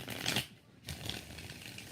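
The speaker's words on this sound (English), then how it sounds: "Four shuffles for Sophie." Tarot cards are shuffled in a couple of quick riffling bursts, soft and close, with a short pause between them.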